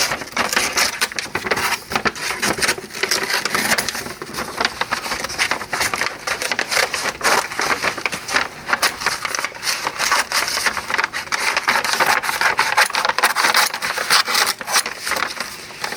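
Scissors cutting satin for a collar pattern out of a bag, a continuous close crinkling and snipping with rustling plastic throughout, no speech.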